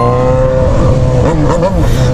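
A Yamaha XJ6 motorcycle with a straight-through exhaust revs loudly up close, a raspy rising and falling engine roar with shifting pitch, with a voice heard briefly alongside.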